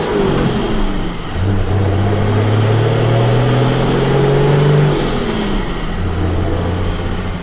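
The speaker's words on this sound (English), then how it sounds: "All the turbo noises." A car accelerates on a long country drive, its engine droning loudly with rising tones through two gear-change surges and a whooshing turbo whine above, heard steadily from inside the vehicle.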